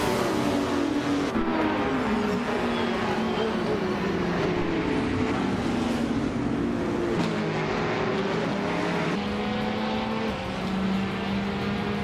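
Ford GT race car engines roar in a racing video game, a steady droning whine with layered tones that climb and shift in pitch as gears change, loud and continuous throughout.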